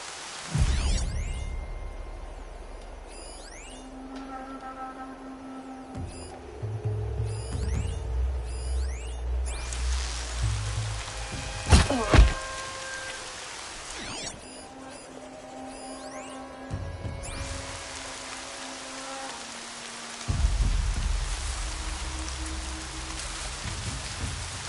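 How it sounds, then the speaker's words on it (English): Rain falls steadily in Horizon Zero Dawn, a constant patter with low rumbles, game tones and a sharp crack near the middle, the downpour swelling again toward the end; no speech. "More rain."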